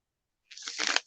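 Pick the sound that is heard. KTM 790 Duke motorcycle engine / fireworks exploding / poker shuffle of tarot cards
poker shuffle of tarot cards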